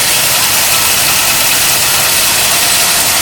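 A 1955 Pontiac Chieftain sedan engine idling, loud and close, a dense steady rumble with no talk over it.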